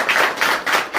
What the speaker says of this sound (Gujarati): આપણે ગોવિંદ માટે આપણે તાળીઓ વગાડીએ